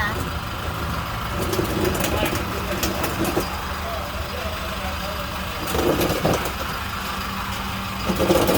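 A passenger van idles with a newly installed exhaust, giving a steady low engine rumble that swells slightly at times while people talk nearby.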